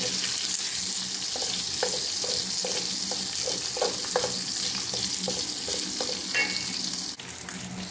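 Chopped garlic sautéing for Filipino pancit guisado, a steady bright sizzle in hot oil with soft clicks of a utensil stirring the pan, close and continuous.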